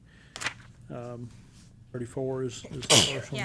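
A sudden sharp burst that fits a sneeze, heard indoors during a board meeting, with people talking and a brief exclamation nearby afterward.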